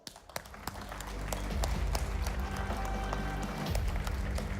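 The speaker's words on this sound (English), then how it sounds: "give them a big round of applause" Audience applause and cheering at a gaming hardware press event, a sustained dense roar of clapping from a large crowd that swells and holds steady, with no speech over it.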